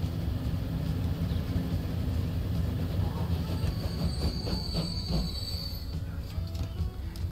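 Trains in the railway-building game Transport Fever 2 roll along steadily, with continuous wheel rumble, rail clatter and a high, drawn-out squeal of braking wheels, heard alone and fairly loud throughout.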